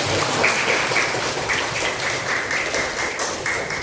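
A crowd at an Indonesian school event applauds continuously, dense overlapping claps filling the whole stretch at a steady, fairly loud level.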